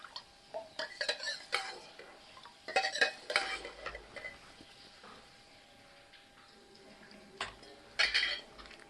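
A spoon stirs a shampoo mixture in a bowl, scraping and clinking against the sides in uneven bursts with pauses between, fairly close and quiet.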